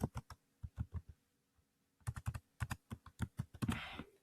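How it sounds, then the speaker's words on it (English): Someone types on a computer keyboard in quick clusters of crisp, close key taps, with a short pause in the middle before a longer burst of typing. "If I come to C1 and type it again"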